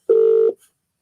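A single clear telephone keypad tone sounds loud and steady for under half a second, then cuts off into silence.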